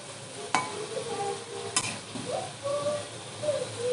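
Sweet gaja dough pieces fry in oil over a flame turned up from low, giving a soft continuous sizzle close by, broken by a couple of sharp utensil clicks and light stirring scrapes.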